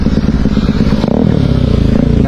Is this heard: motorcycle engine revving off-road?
yes